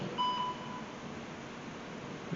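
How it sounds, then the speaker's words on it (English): A thin electronic beep from a ghost detector rings out near the start, a short steady tone over faint hiss in an otherwise quiet space. "To answer no, make that spike and beep."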